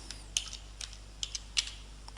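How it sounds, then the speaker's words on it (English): A few scattered computer keyboard keystrokes, quiet and close, typing a search word in short irregular taps against a faint steady hum. "So I can go to Edit, Find, and type in the word John"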